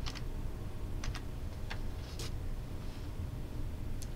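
Faint clicks of typing on a computer keyboard, a handful of sparse keystrokes spread irregularly over a few seconds against a quiet low background hum.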